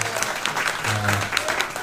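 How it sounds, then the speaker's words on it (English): A crowd claps steadily and densely for a couple of seconds, sustained applause filling the room. "We can give her a big round of applause."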